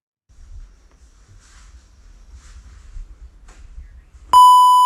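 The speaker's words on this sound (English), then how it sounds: "Now, I beeped this part out" A loud, steady electronic censor beep cuts in near the end, after a stretch of low, faint rumbling and quiet background noise.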